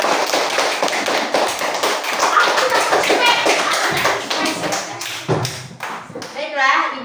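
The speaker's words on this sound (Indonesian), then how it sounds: "Beri tepuk tangan kepada kelompok ya." A classroom of children clapping for a student group during a school lesson, dense uneven claps with busy voices and chatter mixed in throughout.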